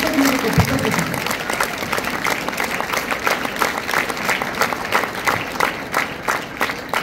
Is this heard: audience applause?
yes